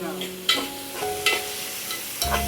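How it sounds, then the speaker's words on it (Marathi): Onion frying in a pan for a dry prawn dish, with soft sizzling broken by a few sharp stirring clinks and scrapes of a utensil, close and fairly quiet, no talking. "कांदा आपल्याला छान असा गोल्डन ब्राऊन होईपर्यंत फ्राय करायचा आहे"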